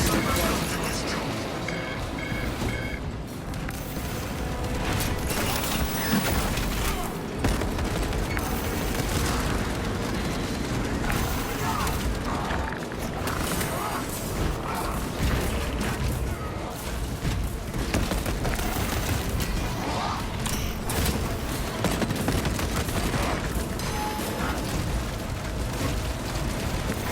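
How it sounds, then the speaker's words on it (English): Servo harness gun fire in Warhammer 40000: Space Marine 2 keeps up a dense, continuous barrage of booming shots and blasts for nearly half a minute, layered with chaotic battle noise while in-game voices talk over it. "Let the servo gun do its job."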